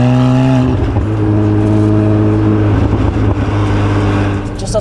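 A car engine with a sporty exhaust note drones loudly and steadily at cruising revs, close by, its deep tone shifting slightly as the load changes.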